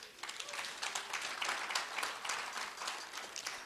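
An audience at an Africa night event claps continuously, with a fairly distant and moderately loud patter that swells slightly in the middle.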